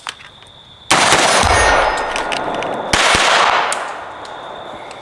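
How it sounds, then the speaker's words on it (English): Two loud, sharp pistol shots ring out a couple of seconds apart, each followed by a long bright ringing decay, with a faint click just before the first. "I think I missed both of those pistol shots."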